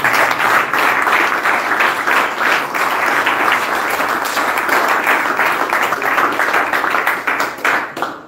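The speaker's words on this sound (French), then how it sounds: "Applaudissons pour le Seigneur." A church congregation applauds together, loud sustained clapping throughout with a slight rhythmic pulse, tapering off at the very end.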